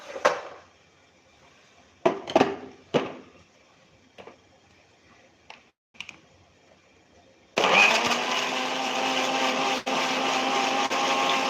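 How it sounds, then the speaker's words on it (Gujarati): A few scattered clatters and knocks give way to a mixer grinder starting up, its loud, steady motor whir grinding a chutney with ginger and running continuously to the end. "હવે આપણે ચટણીને પીસી લેશું"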